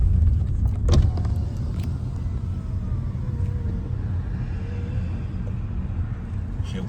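A car rolls into a JDM car meet, its engine a low, steady rumble heard close by, with a brief thump near the start and no clear speech.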